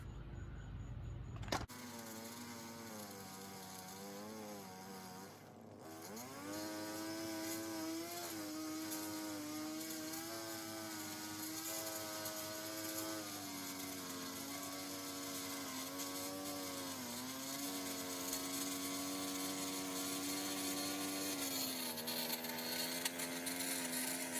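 A gas lawn edger runs steadily after starting, with a sharp start at first and then a sustained buzzing engine drone that varies slightly as it works along the edge, fairly close and with no talk over it.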